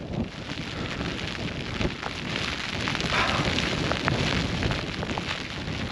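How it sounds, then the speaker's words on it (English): A heavy rain shower sweeps across an island, a dense, loud roar of pouring water with gusty wind buffeting close by, swelling slightly midway and continuing unbroken without voices. "that rain arrived just at the wrong time when there was no shelter"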